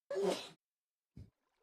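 A single loud sneeze bursts out, followed a moment later by a short, quieter sniff or breath, then silence.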